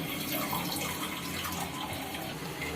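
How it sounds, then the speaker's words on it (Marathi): Water runs in a steady, quiet stream into a metal pressure cooker for wheat kheer, constant throughout with no other sounds. "एक ग्लास पाणी घाला"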